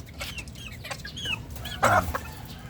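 Rooster on a backyard farm clucking in short bursts, with a louder cluck near the end over steady outdoor background noise.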